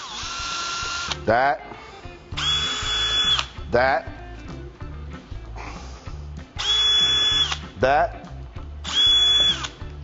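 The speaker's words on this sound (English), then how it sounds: "So you just go ahead and drill" A power drill bores holes to install a Porta Air door frame, running close and loud in four separate bursts with pauses between them, while someone speaks briefly.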